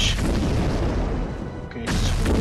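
A warship's main gun firing in the naval game Abyss Horizon, dense booming blasts that roll continuously, dip briefly, then surge back loud and close.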